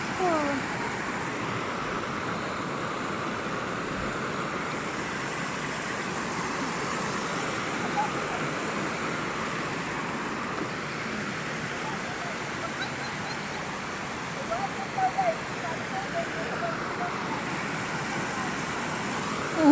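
Spring water flows steadily at Hubason spring in Carmen, Surigao del Sur, a constant broadband rush that holds even throughout, close and continuous, with no talk over it.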